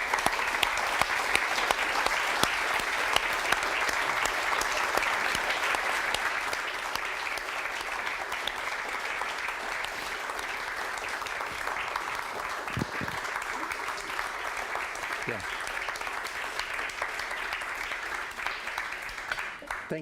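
Sustained audience applause after a talk on rethinking the far right, steady and full for about twenty seconds, broad and moderately distant, tapering only slightly toward the end.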